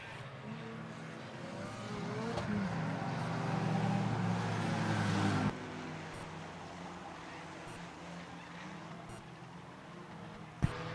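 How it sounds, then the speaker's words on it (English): Race cars in an auto enduro lap Wiscasset Speedway, about fifteen still running, giving a dense, continuous engine roar that swells and then eases just past the midpoint, with a brief sharp knock near the end. "Fifteen cars still taking turns around Wiscasset Speedway."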